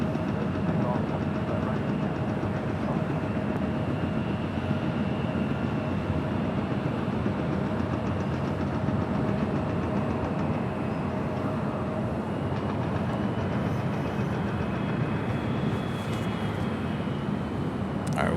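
An airliner's engines roar at Los Angeles International Airport in a loud, continuous broadband rumble that holds steady for the whole stretch, with a voice talking intermittently underneath.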